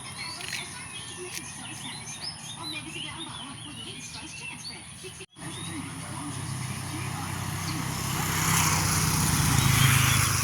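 Outdoor morning ambience with chirping birds and a steady insect drone, as a vehicle rumbles closer and swells louder toward the end.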